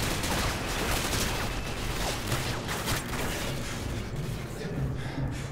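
Dense, continuous gunfire from Call of Duty Modern Warfare, a loud wash of overlapping shots and battle noise with no pause, filling the whole stretch without any voice.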